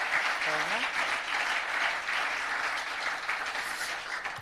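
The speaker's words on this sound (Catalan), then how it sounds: "us demano un altre aplaudiment per la Cati" An audience at a school robotics project talk applauds, a continuous even wash of clapping that holds steady and fades slightly at the end, with a brief voice near the start.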